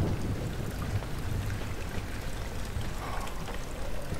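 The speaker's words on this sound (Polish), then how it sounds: "Słyszę chyba deszcz." Steady rain in the horror game Amnesia: The Dark Descent, a dense, constant wash of falling water with a low rumbling bed, loud and unbroken throughout without speech.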